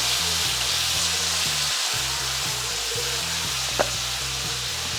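Egg fry with curd sizzles steadily in a hot pan, a constant close frying hiss with soft scraping stirs and a low hum underneath.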